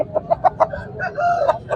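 An Aseel breed rooster at a Multan chicken market clucks repeatedly up close, a quick series of short throaty notes followed by a longer drawn-out call, loud and clear.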